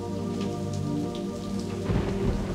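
Heavy rain pours steadily while low thunder rumbles underneath, building into a louder roll near the end, with no voices.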